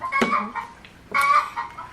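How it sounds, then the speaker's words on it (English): A chicken clucks inside a board of trustees meeting room, two bursts of sharp, mid-loud clucking calls separated by a brief pause, heard alone with no talk over them. "Oh, there's a chicken."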